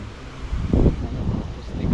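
Wind buffets the microphone in low, rumbling gusts, one stronger surge briefly swelling in the middle of a steady blustery roar.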